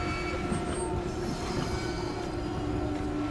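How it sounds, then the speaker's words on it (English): Train passing in the game Alien Isolation: a steady, loud rumbling roll with sustained metallic ringing and faint squealing tones throughout, no talk. "Oh, is there another train?"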